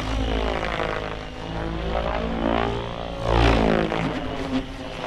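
XLPower Specter 700 V2 RC helicopter flying with its rotor spinning at moderate speed: a continuous whirring, buzzing drone that swells and fades slightly as it passes, loud and steady throughout with no talking.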